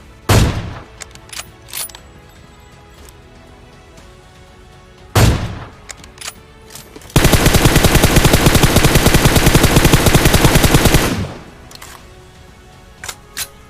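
Gunfire in the PUBG Mobile battle royale shooter: two sharp single shots early on, then a loud sustained burst of rapid automatic fire lasting about four seconds, with no talking.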